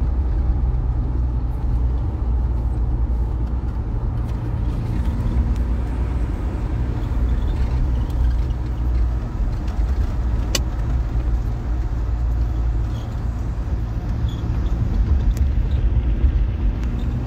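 A small escort convoy of cars on Bishanpur Road in Supaul, recorded from inside a moving vehicle: steady loud engine and road rumble continues without a break, with no voices over it.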